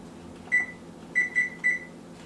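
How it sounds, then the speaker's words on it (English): Electronic beeps from an oven being set to preheat to 400 degrees: one beep, then a quick run of three, clear and close against a quiet kitchen hum. "we're going to start by preheating the oven again to 400"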